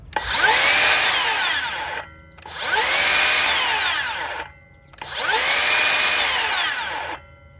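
A Makita 40V XGT 7-1/4-inch rear handle circular saw spins up three times in a row, each loud whine running about two seconds before its electric brake stops the blade and leaves brief quiet gaps.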